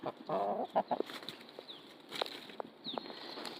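Chickens cluck in short bursts, with a few sharp calls scattered across a quiet outdoor background.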